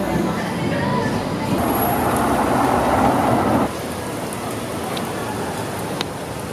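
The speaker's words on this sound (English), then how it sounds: "It's pouring." Heavy rain pours steadily in Porto in a dense, loud hiss, with a low rumble and patter that eases slightly partway through.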